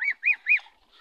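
Three quick, nasal domestic goose honks in a row, fairly close and clear, followed by a softer trailing call.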